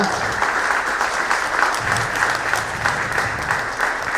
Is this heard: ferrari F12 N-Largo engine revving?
no